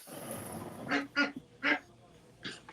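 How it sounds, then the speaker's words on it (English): Little ducks in a bathtub give several loud, close quacks in a quick run of three followed by one more after a pause, heard clearly with light room noise. "Quack, quack, quack. Oh, you guys can hear them?"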